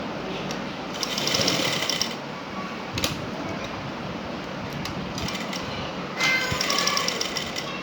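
A sewing machine stitches elastic into trousers in short bursts, running for about a second at a time with quiet pauses between, close and fairly soft over faint room noise.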